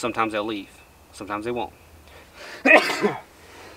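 A single sharp sneeze bursts out loudly right after someone speaks briefly, in an indoor conversation about bass fishing.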